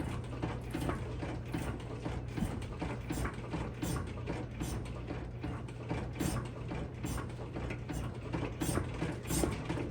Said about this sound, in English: I hold the front brake, give it a bunch of pumps.